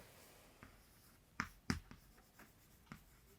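Marker or chalk writing on a board during a chemistry lesson: a few faint scratchy strokes, two sharper taps near the middle and one more toward the end, quiet room with no talk.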